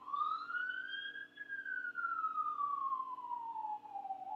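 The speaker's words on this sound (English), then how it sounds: "oh that police or an ambulance or what I don't know" A police car or ambulance siren wails in a slow rising and falling sweep, loud and steady with no talking over it.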